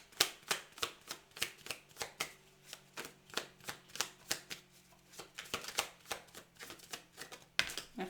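Oracle cards are shuffled by hand in quick, even riffles, about two per second, each a crisp papery flutter close to the listener, with a brief pause near the end before the shuffling resumes; nobody speaks.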